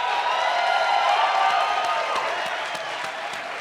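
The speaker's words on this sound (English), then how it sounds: "Let's give them another well-deserved round of applause and standing ovation" An audience at a theater awards ceremony applauds, a dense wash of clapping from a crowd that holds steady, then gradually thins toward the end.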